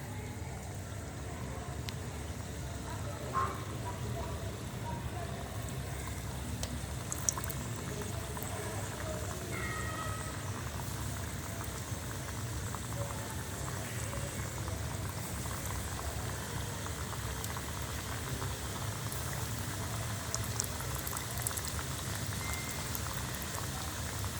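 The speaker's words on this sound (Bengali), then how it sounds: "বন্ধুরা নিচের সাইডটাকে আগে ভেজে নেব" Steady, dense bubbling and crackling of egg-and-flour pithas frying in hot oil, continuous and fairly close, with no clear talk over it.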